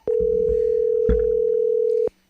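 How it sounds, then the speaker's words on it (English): A telephone tone sounds as one steady, loud pitch lasting about two seconds before cutting off, with faint voices and clicks underneath. "Let's get Jeremy on the phone."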